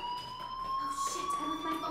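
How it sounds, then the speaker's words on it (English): A school fire alarm in the video game Life is Strange sounds as a continuous electronic tone held steady with high overtones, moderately loud, while a voice murmurs faintly underneath. "Hey, do you hear that fire alarm?"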